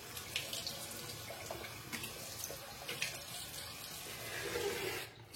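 A shaving brush is wetted under a running tap, producing a soft, steady stream of splashing water with small fluctuations, fairly quiet and close, with no talking.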